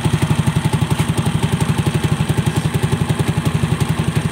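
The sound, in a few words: pushrod motorcycle engine idling during air/fuel screw adjustment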